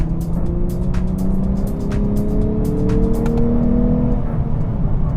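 A 2022 Lexus IS with a naturally aspirated 3.5-liter V6 revs loudly and close by, its smooth engine note climbing and sustaining in pitch for several seconds with no talk over it.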